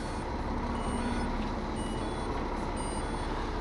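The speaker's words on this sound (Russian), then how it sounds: "И теперь задним ходом по грязюке" A truck backing out through mud in front of a building entrance, its reversing beeper sounding steadily over a loud continuous engine rumble, close by and with no talk.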